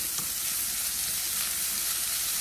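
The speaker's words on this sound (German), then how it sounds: "In diese Pfanne kommt jetzt unser Schweinespeck." Pork belly bacon sizzles and fries steadily in a pan as its fat renders, a continuous close hiss with small crackles and no talk.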